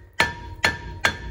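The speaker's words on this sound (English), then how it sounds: "I'm just gonna hammer it till this thing comes off" A hammer strikes a rusted rear brake rotor on a 2016 RAM 1500 pickup, three sharp metallic blows with a ringing tone, evenly spaced about half a second apart, close and loud.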